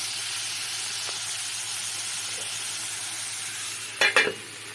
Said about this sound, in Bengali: এবার আমি ভালো করে নাড়াচাড়া করে মশলাগুলির সঙ্গে মিশিয়ে নিয়ে